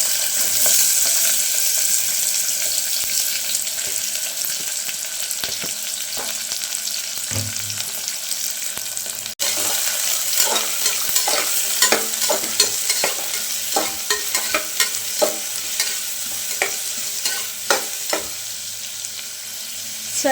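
Long-sliced onions go into hot oil with cloves and cinnamon, setting off a strong continuous sizzle, followed by repeated spatula scrapes and stirring clatter against the pan, close and loud, with no talking.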